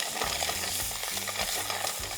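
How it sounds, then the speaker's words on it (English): Shallots, garlic and serrano chiles are stirred in a pot over a continuous loud sizzle, with faint scraping strokes running beneath a dense frying hiss and no talking. "I'm gonna add my shallots, my garlic, and my serranos. I'm gonna give that a little stir."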